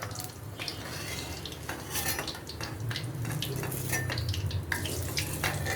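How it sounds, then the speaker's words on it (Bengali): Fried onions and green chilies are scooped out of hot oil with a metal utensil: light clinks and scrapes against the pan over a soft, steady background hiss, fairly quiet. "আমরা এখন পেঁয়াজটা তেল থেকে তুলে নেব"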